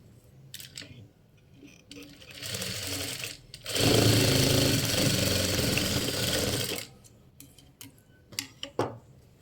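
A sewing machine stitches darts in fabric, first a short softer run, then a loud continuous whirring burst of about three seconds, followed by scattered clicks and handling taps, with no speech.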